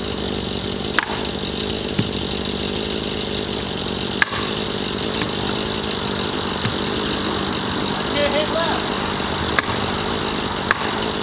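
A chainsaw runs steadily through a leaning, stuck tree held back by rope tension, with wedges and a maul also in use. The motor drones at a constant, fairly close level, and a few sharp knocks stand out above it.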